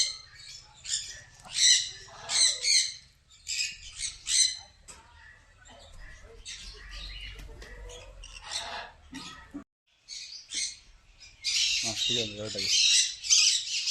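Parrot squawking at an eco park, harsh bright calls repeated in bursts near the microphone, with people talking in between and around them.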